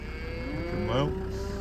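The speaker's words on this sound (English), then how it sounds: "Galway sound next to the black cow on the right." A single drawn-out moo from a black cow in a field, close by and rising then falling, with a steady hum behind it.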